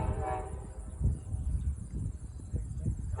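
A heavy freight train rumbles past with its horn sounding, a low rolling clatter of wagons and a steady buzz of insects behind it.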